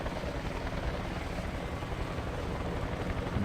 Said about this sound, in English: the Americans are fleeing rather stupidly in this old Chinook helicopter, which I am going to take down about right now